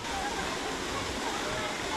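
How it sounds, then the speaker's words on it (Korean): Water at an outdoor summer water play area rushes and splashes in a steady, loud wash of spray that holds unbroken throughout. "저 멀리서 시원한 물소리와 함께 아이들의 웃음소리가 들려오네요"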